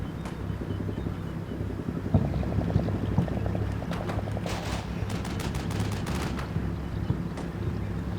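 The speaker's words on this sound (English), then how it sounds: "Oh, these guys must be under fire." Gunfire in the video game Combat Mission Black Sea as infantry come under fire: rapid crackling bursts of distant shots over a steady low rumble of vehicle engines, with sharper volleys clustering in the middle and a few trailing shots.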